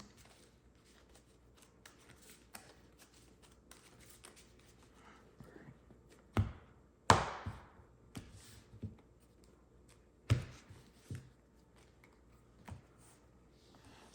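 Trading cards from a game deck shuffled by hand, quiet rustling punctuated by a few crisp slaps and snaps of the cards, close-up with no voices.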